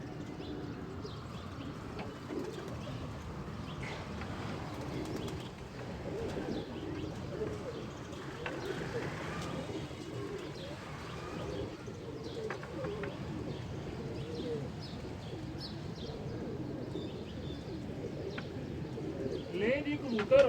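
A pigeon coos softly in low repeated murmurs outdoors, faint under a steady background hum, with quiet talking and occasional small chirps.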